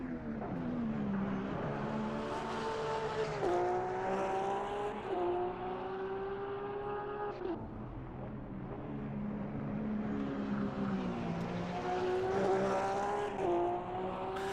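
A black-and-orange Porsche race car in the Motor Mania game drones steadily and close, its engine pitch climbing and dropping back with repeated gear shifts throughout.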